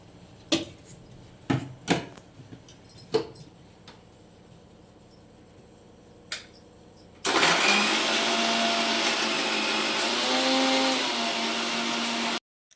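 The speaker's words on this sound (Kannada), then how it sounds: "ಏಳೆಂಟು ಮೆಣಸಿನ್ಕಾಯಿ ಶುಂಠಿ ಸ್ವಲ್ಪ ನೀರನ್ನ ಹಾಕೊಂಡು ತರ್ತರಿಯಾಗಿ ಇದನ್ನ ರುಬ್ಕೋಬೇಕು" A mixer grinder grinds seven or eight green chillies with ginger and a little water, starting abruptly after some kitchen clatter and running loud and steady for about five seconds before cutting off.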